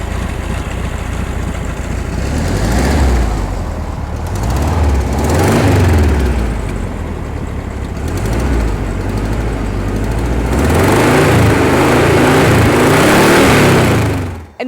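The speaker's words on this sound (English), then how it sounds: "the engine is a flat 4 and produces a very distinctive sound" A Volkswagen Beetle flat-four engine running steadily close by, its mid-pitched rumble rising and falling as it revs, with no talking.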